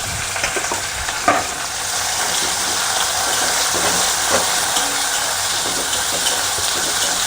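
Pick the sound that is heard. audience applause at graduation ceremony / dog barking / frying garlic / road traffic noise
frying garlic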